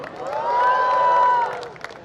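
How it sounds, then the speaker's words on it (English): A college fest audience cheers for the Music Club, a short swell of crowd whoops and shouts peaking loudly for about a second, with a sustained voice tone over it before fading. "Can I hear a cheer for the Music Club?"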